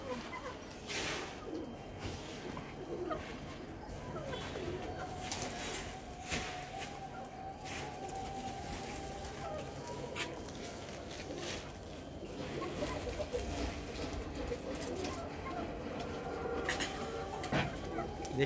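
Kamagar pigeons on a Lahore rooftop coo softly amid a steady outdoor din, low murmuring calls blending into continuous background noise, faint and somewhat distant, with no clear speech.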